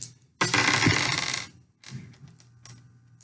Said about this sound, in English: Now, let me roll my dice.